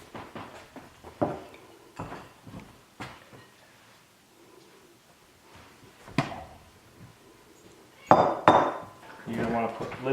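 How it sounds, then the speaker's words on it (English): Lids are set onto hot baking pots in a home kitchen, giving a scattering of sharp metallic clanks and clinks. The knocks come at irregular intervals, with a louder cluster of clatter near the end. "You're going to want to put lids on them."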